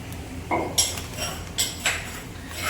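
Chutney pounded by hand in a traditional kitchen: a few sharp, close knocks and clinks of a pestle striking a mortar, spaced irregularly over a quiet background.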